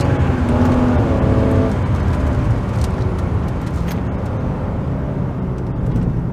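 A BMW E39 528i engine roars loudly and steadily nearby, its pitch rising and settling with a brief rev early on, no voices.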